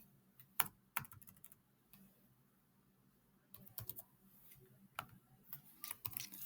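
Code being typed on a computer keyboard: quiet, irregular bursts of sharp key clicks with short pauses between runs, heard close up in an otherwise still room.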